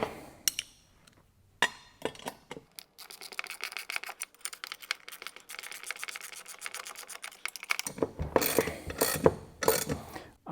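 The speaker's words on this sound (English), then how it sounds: "Just going to bolt these up." A hand ratchet tightens half-inch nuts and bolts with lock washers on the front suspension of a 1972 MGB, giving a few isolated clicks and then long runs of fast rapid clicking, close and clear with no talk.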